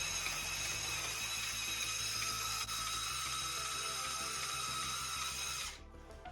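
Motorized twin rotors on a LEGO Technic 42113 Bell Boeing V-22 Osprey spin in opposite directions with a steady, high-pitched whining hum that runs continuously at close range, then winds down and stops near the end.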